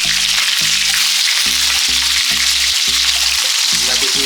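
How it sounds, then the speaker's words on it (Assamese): Chopped onions fry in hot oil for a jackfruit curry, giving a steady loud sizzle and hiss with rhythmic clunks of stirring in the pan throughout, no voices present. "পিঁয়াজখিনি মই দি দিম ইয়াতে।"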